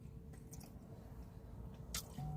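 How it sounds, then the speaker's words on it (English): Close, quiet squishy chewing of a Philly or gyro sandwich with white sauce, soft wet mouth sounds and a couple of brief crunchy clicks over low room hum. "just keep chewing"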